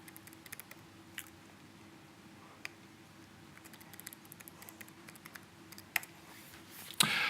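Light, quiet keystrokes tap on a computer keyboard while logging in, scattered clicks with short pauses and a louder burst near the end, against a low steady hum.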